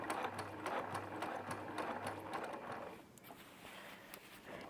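Sewing machine stitching quilt pieces a sixteenth of an inch from the edge, rapid rhythmic mechanical whirring in short bursts, fairly faint and close, slowing and pausing near the end.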